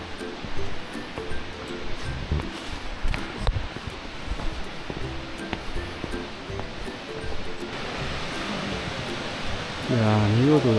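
Steady rushing water from Nachi Falls in Wakayama, Japan, fills the background, a broad constant roar, with occasional voices speaking nearby over it.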